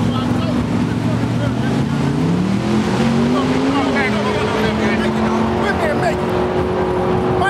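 A Mustang drag race car engine at a grudge racing event at a drag strip, loud and close, its drone rising in pitch as it revs, with crowd noise and speech underneath.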